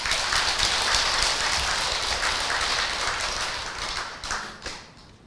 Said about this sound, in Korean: 이 시인에게도 고맙다고 이 글을 보내준 그 보현성 불자한테도 박수 한번 보내주세요